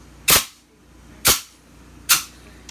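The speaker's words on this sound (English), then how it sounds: "You got 2 shots with this, and then as you can see here, that was the first shot" A homemade air-powered arrow gun fires three loud, sharp blasts about a second apart, each a sudden burst of released air that fades quickly, close by with no voices.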